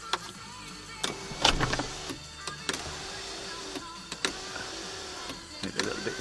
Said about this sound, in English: It's got a sunroof as well, which works.